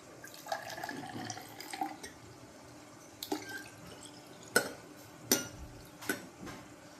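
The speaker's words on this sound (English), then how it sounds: "when I put cold water at the bottom" Cold water is poured into a container of hot water, heard as faint trickles, drips and splashes with a few sharp clinks of glass or utensils, sporadic and close.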